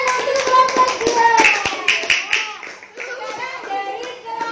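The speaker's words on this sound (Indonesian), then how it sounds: "tepuk tangan untuk kelompok 2" Primary school children clap in a loose, uneven burst of sharp hand claps that fades out, with young voices chattering and calling over it.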